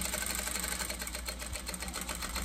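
A sewing machine runs steadily, stitching fabric for a small Easter bag, with a continuous close mechanical whir and no talk over it.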